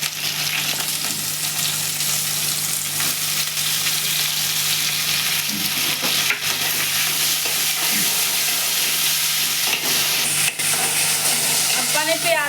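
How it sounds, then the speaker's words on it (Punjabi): Onion, tomato and garlic fry in hot oil in a kadhai, giving a steady, loud, close sizzle that runs the whole time with occasional stirring scrapes. "ਤੇਲ ਗਰਮ ਹੋ ਗਿਆ ਹੈ ਹੁਣ ਇਹਨਾਂ ਨੂੰ ਆਪਾਂ ਪਾ ਦਾਂਗੇ ਵੀ ਕੜਾਹੀ 'ਤੇ"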